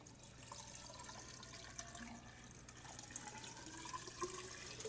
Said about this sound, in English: He's pouring in water, and now it's going to drain through there